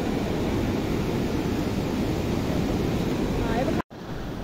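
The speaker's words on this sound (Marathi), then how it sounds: "ही सेती नदी म्हणजे व्हाईट गंडकी, पांढरे पाणी असलेली गंडकी नदी." The Seti (White Gandaki) river near Pokhara flows with a constant, broad rushing hiss, loud and unbroken, before a brief dropout just before the end.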